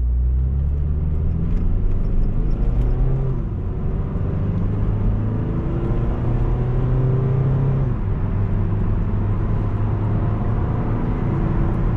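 A 2012 Mitsubishi Eclipse Spider GS engine idles steadily, a low continuous rumble with a smooth, even hum throughout and no revving.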